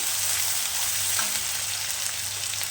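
Onion fries in a pan with a loud, continuous sizzle while being stirred, with soft scraping under the steady hiss and no voices.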